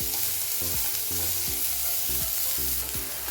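Finely chopped onion sautés in a pan with a steady hiss, while a spoon scrapes and stirs in repeated low knocks, close and continuous.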